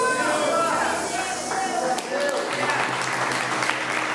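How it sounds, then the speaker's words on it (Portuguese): A church congregation applauding during a sermon, the clapping mixed with voices and shouts, uneven and fairly close. "Pode aplaudir aqui"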